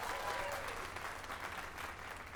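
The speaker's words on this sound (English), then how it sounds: "Let us give a round of applause for young Fulvio" Steady applause from a crowd in the video game Dragon's Dogma 2 fills the clip, dense and continuous at moderate level, with a faint tone sliding briefly near the start.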